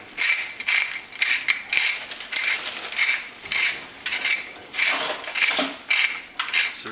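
A pepper mill grinds black pepper into a Caesar dressing, a series of loud ratcheting bursts in a steady rhythm, close up, each twist about half a second long, with no talking.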